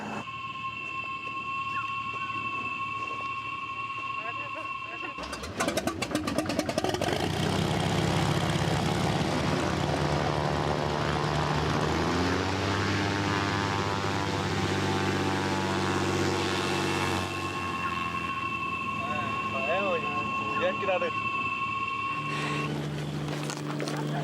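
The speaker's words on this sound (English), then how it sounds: "This little airplane has just dropped us off on this planet" Small propeller airplane engine starting up and running, a loud close droning roar with a pitch that shifts as it revs, then winding down, with steady tonal hum before and after.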